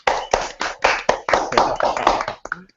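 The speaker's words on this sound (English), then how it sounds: "Can we give Dr. Hakim a round of applause?" A small group claps for a doctor introduced to give a book review, about ten distinct, loud, close hand claps in an uneven rhythm that trail off near the end.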